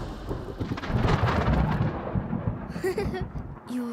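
Cartoon thunder from the mythical thunder-bird in the Umka animated series: a loud, broad rumbling roll rising and sustaining for several seconds before fading, with a brief voice near the end.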